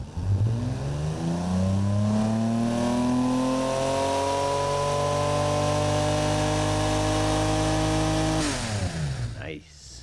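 A simulated 3.4 liter engine revs loud and close in a driving game, its harmonic tone sweeping steadily up and holding high before dropping away sharply near the end.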